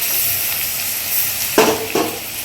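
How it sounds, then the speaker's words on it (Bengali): Tomato and garlic sizzle in hot oil in a pan while tadka dal is being made, with a couple of quick stirring scrapes near the end. "তারপর এটাকে একটু ভাজা ভাজা করে ভাজতে হবে।"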